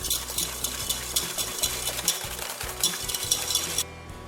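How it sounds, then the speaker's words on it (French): Egg yolks whisked with caster sugar in a bowl, a brisk rhythmic clatter of the whisk against the sides running steadily for about four seconds before stopping abruptly. "dans un récipient, vous mettez les jaunes d'œufs avec une cuillère à soupe de sucre semoule. Vous fouettez l'ensemble."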